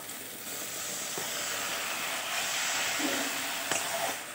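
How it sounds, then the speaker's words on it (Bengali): Hot water poured into frying mustard-poppy masala in a pan sets off a steady, close hiss and sizzle that swells slightly partway through, with faint clinks. "এবার দিয়ে দেবো আমি একটুখানি গরম জল।"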